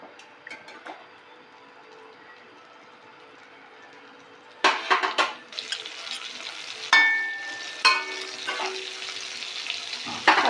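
A spoon of butter is added to a hot wok for mutton stew. Quiet hiss at first, then a sudden burst of sizzling and scraping clatter that carries on in uneven bursts.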